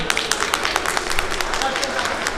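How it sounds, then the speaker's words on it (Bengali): Audience applause at an award presentation during a couples' quiz contest on a Bengali stage show, dense steady clapping throughout at moderate level with no talk. "জোরে করতালি হবে।"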